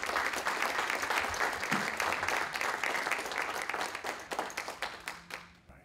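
An audience gives steady applause to welcome Dr. Eli Jones as he takes the stage at a Texas A&M executive search event, the dense clapping of a large crowd thinning into scattered individual claps toward the end.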